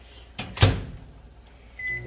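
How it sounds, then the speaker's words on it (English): A microwave oven heating ground meat in short intervals, heard as a faint low hum with a couple of soft clunks early on and a brief tone near the end. "I'm just going to heat up a little bit in the microwave, melt it in the microwave"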